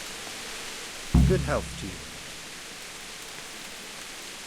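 Steady rain pours across a medieval setting in Kingdom Come: Deliverance, a constant hiss filling the whole stretch while someone speaks briefly near the start.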